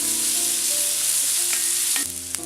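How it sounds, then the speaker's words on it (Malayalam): Onion, ginger, green chilli and curry leaves sautéing in a pan for semolina upma, a steady loud sizzle with faint stirring scrapes, continuous and close with no talk. "സവാള, കറിവേപ്പില ഇതെല്ലാം ഒന്ന് വഴറ്റിയെടുക്കാം."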